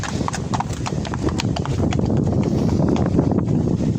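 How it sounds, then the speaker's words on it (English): Several horses with riders in saddle clip-clop along at a walk, their hooves clattering loudly and continuously close by over a steady outdoor background. "Let's check out these horses, lovely horses."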